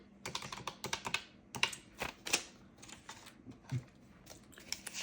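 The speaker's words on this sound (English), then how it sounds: "I'll get a sticky note so that I can write that out." Pen scratching and tapping on a small sticky note at a desk, a run of short close scratchy strokes and taps with brief pauses, loud and dry, alone with no talking.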